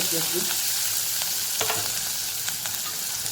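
Onion and green chili sautéing with crushed garlic and asafoetida in a pan, a steady close sizzle broken by a few soft scraping stirs.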